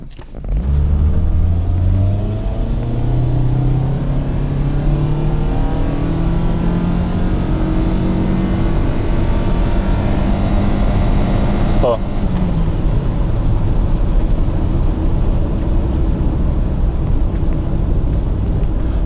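A Mitsubishi Outlander XL crossover's engine climbs steadily in pitch as it revs hard while its wheels slip on a poor-weather surface, a loud sustained acceleration with a sharp click partway through.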